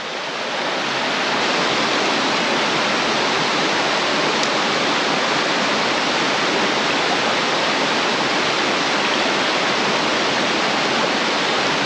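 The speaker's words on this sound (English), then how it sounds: "right before this little waterfall here" A small waterfall on a mountain trout stream roars steadily and loudly, a dense unbroken rush of falling water close by with no talk over it.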